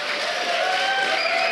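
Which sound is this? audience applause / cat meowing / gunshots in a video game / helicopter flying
audience applause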